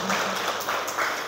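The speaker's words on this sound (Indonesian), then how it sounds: "tepuk tangan untuk Bapak Ibu semua." A morning school staff gathering claps in a brief burst of applause, a dense, even wash of hands mixed with voices.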